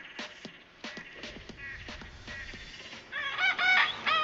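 A rooster crows in Tobago, first as a series of short sharp clucks and calls, then a longer, louder crow toward the end, heard alone and fairly close.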